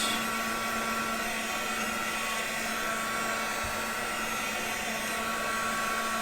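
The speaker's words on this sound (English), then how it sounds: "use the heat gun just until I feel like it's warm enough to fuse" A heat gun blows steadily to fuse textured toilet paper in a junk journal, producing a loud, constant whirring hiss with a fixed hum that stays unchanged from start to finish.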